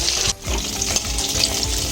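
Coated chicken frying in oil over a low flame produces a steady close-up sizzle and crackle, briefly dipping near the start, with occasional soft stirring knocks and no talking.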